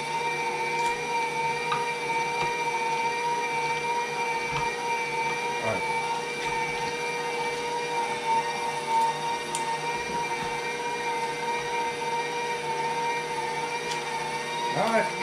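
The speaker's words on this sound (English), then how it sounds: "Give a heads up on this KitchenAid grinder." KitchenAid grinder attachment running steadily while grinding deer meat and fat for burger, a continuous motor whine with a few faint knocks, close and fairly loud throughout, with some talk underneath.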